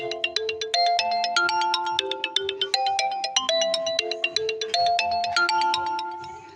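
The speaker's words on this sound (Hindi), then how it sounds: "किसका फोन है?" A melodic phone ringtone plays in a classroom, a bright repeating pattern of chime-like notes in a steady rhythm, fairly loud and continuous for several seconds with no talk over it.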